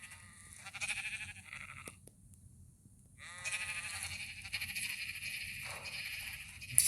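Untamed sheep on a sheep farm bleat repeatedly, the wavering cries overlapping at moderate distance, with a brief quiet gap between calls and a low background rumble.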